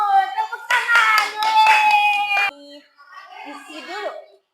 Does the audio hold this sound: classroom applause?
yes